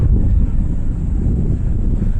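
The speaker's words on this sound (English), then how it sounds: "It's very windy here, so I'm just hoping that the microphone's going to pick up my voice" Strong wind at a coastal viewpoint buffets the microphone with a loud, continuous low rumble and roar, steady throughout with no voices.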